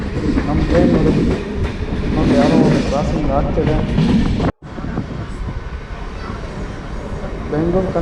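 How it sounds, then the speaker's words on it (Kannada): MEMU suburban train rolling on rails between Kuppam and Bengaluru, a loud steady rumble with rhythmic wheel clatter heard from inside the carriage, briefly cutting out for a moment, with voices mixed in. "ಕಂಟ್ರೋಲ್ಮೆಂಟಲ್ಲಿ ನಮ್ಮ ಟ್ರೈನ್ ಎಂಟ್ರಿ ಆಗಿದೆ."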